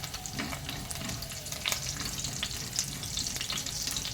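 Curry leaves frying in a pan with tamarind pulp, chillies and salt, a steady close crackle and sputter with light scraping of a spoon, no voices over it.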